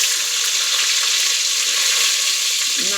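Onions sauté for tomato rice in a hot pan with a loud, continuous, even hiss of frying, up close and without talk.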